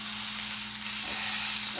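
Ribeye steaks fry in a pan on the highest heat, giving a dense, steady sizzle close up with no pause, alone and without talk.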